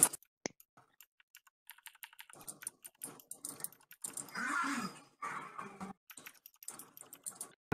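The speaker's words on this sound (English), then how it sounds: "all you're getting is people clicking keys" Keys on a computer keyboard clicking in quick, irregular bursts during a Discord voice call, with short taps and denser stretches of rapid typing at moderate volume.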